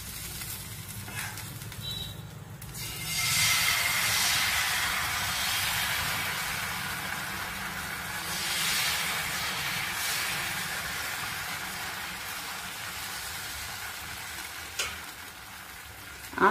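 Water sprinkled onto a hot, oil-wiped pan for neer dosa sizzles steadily at close range, with a broad hiss that swells after a few seconds and holds, plus a brief sharp crackle near the end.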